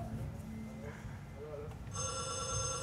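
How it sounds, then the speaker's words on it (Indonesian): A mobile phone ringtone bursts in partway through, a loud, bright electronic trill during a call, following a stretch of muffled background voices and room noise. "Wow, kenceng banget suara handphonenya."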